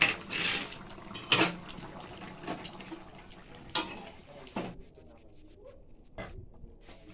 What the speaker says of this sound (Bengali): এবার তরকারিটা আমি ঢেলে নেব